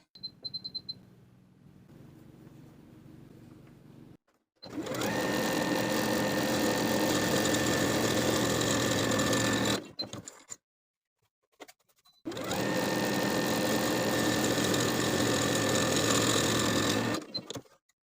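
A sewing machine stitches a seam with a 5/8 inch allowance in two long, even runs close by, split by a short pause, with a faint hum before the first run.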